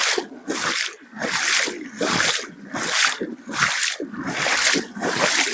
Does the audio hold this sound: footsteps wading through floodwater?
yes